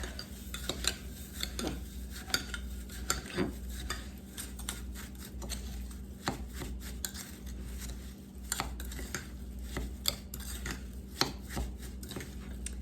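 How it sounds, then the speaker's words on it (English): Butternut squash casserole ingredients stirred together in a bowl, a steady close scraping and clinking of a utensil against the dish with irregular knocks, continuing for about thirteen seconds without talk. "And then we're just going to mix that all up."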